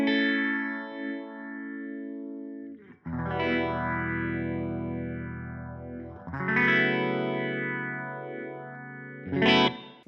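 A Boss Phaser PH1 guitar pedal sweeps over sustained electric guitar chords, giving a slow swirling whoosh that rises and falls across four strummed chords, each left ringing alone with no talk.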